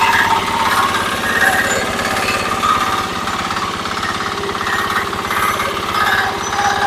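A Kentavr walk-behind tractor engine running again after a restart, a loud, close, rapid chugging putter at a steady idle that holds throughout with slight swells.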